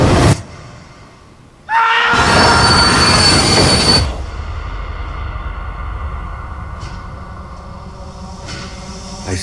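Steel wheels of the Orient Express squeal loudly and harshly for about two seconds in a film trailer, after a sharp hit. The screech then gives way to a fading, rolling rail rumble with faint clicks.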